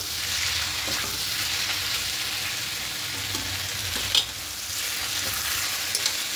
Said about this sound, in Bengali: এভাবে মিশিয়ে নিয়ে একটু কষতে থাকবো।